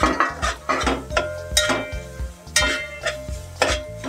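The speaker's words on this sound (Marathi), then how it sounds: "आता ढवळून घेऊया" Grated coconut being stirred in a pan while making narali bhat, with a steady run of scraping spoon strokes and faint sizzling, close and fairly loud, with no talk.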